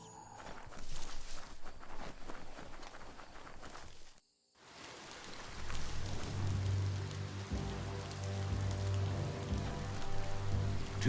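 Steady rain patters on surfaces in the video game Biomutant, a dense hiss broken by a brief gap, then returning heavier alongside a low droning tone.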